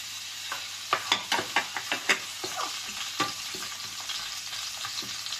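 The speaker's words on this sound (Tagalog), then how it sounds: "Tayo po'y maggisa ng bawang at sibuyas. Unahin po muna natin ang ating luya." Ginger, garlic and onion sauté in a pan, sizzling steadily up close while a utensil scrapes and clatters in a quick run of sharp strokes, then more sparsely.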